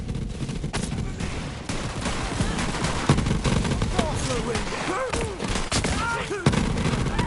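Dense gunfire and bursts in a Borderlands firefight, steady loud shooting with a few heavier booms over several seconds, mixed with game voices and effects.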